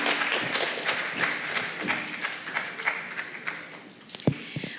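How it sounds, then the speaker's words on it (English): A conference audience at a dental research symposium claps steadily, a dense patter of many hands that thins out toward the end with a few louder final claps. "Please give them a warm round of applause."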